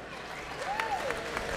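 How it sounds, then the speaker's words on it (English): Brief crowd applause at an MMA fight night, a short burst of clapping with a whistle sliding up and back down over it. "Give a big round of applause for one of our sponsors,"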